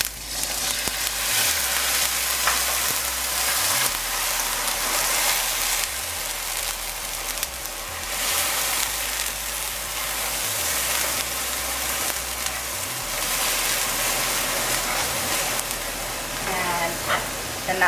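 Milk poured into melted black sugar for a Guyanese black sugar cake, giving a steady broadband sizzle with scraping stirring throughout, fairly loud and continuous, with no talk over it.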